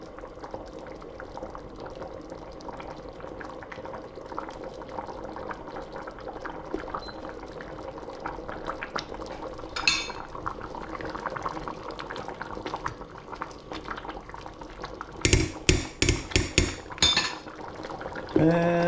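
A pot of hearty mushroom soup bubbles at a low, steady simmer. Near the end it gives way to a burst of loud clatters as a pan and utensils are handled.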